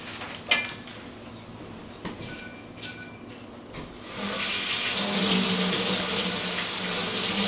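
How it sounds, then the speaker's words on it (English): Cold water poured into a cake mixture, a few light clinks and taps, then a steady close splashing stream filling the bowl for the last few seconds. "And then we're going to add our cold water to it so that it will set"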